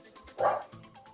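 A pet dog indoors gives a single short bark-like yip, soft and somewhat distant, with faint low rumbling around it during a casual home livestream.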